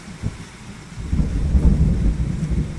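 Thunder rumbles through a storm with rain falling; a low, deep roll starts softly and swells louder after a second, then holds as a steady heavy rumble.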